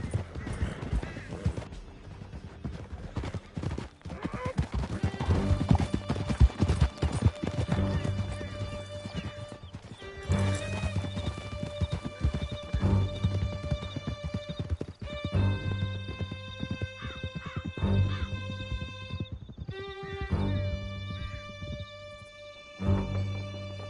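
Horses galloping hard through a canyon in the video game Red Dead Redemption 2, rapid hoofbeats pounding steadily for the whole stretch, with whinnies, music and faint shouting mixed in.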